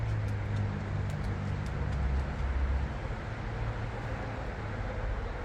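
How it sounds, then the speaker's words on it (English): Low, steady rumble of road traffic passing outdoors near a garden, continuous for the whole stretch with no voices over it. "Sorry about the traffic sounds."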